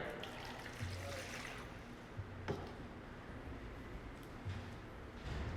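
Water trickles and splashes faintly as it is poured into a container at an arts workshop, a quiet, close, uneven dribble with a few small bursts.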